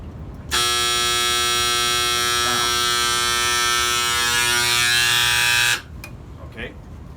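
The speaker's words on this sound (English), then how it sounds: "the second pump came on" Lift station pump kicking on with a loud, steady electric buzzing hum that holds for about five seconds and then cuts off abruptly, with a faint voice briefly under it.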